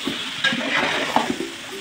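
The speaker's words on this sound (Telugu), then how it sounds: "మళ్ళీ కొత్తిమీర, పుదీనా ఇవన్నీ వేసిన తర్వాత బాగా కలుపుకోవాలి." Mutton biryani mixture with coriander and mint being stirred in a hot pot, a steady broadband sizzle with soft scraping strokes and a few faint clinks, close and fairly loud, with no talking.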